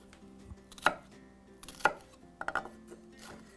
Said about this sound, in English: I'm gonna mince this.